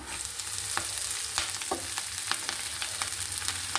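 Chopped ponnanganni (sessile joyweed) greens sautéing with onions and green chillies in a pan, a soft continuous sizzle broken by quick spatula taps and stirring clicks, no talking.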